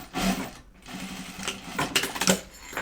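A sewing machine stitches quickly over zippers on a bag prototype, a rapid mechanical whir with heavier clunks and thumps as the needle crosses the zipper tape, close and steady.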